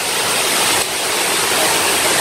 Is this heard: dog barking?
no